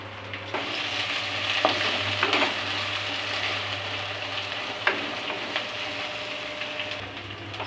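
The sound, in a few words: onions sautéing on medium flame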